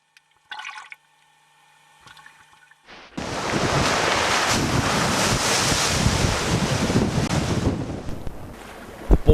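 Sea waves break steadily on the shore, a loud continuous wash of surf with wind buffeting the microphone, preceded by a few seconds of faint shoreline sounds before the roar swells in.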